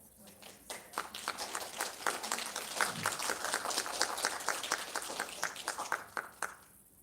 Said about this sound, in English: please join us in giving each member a warm round of applause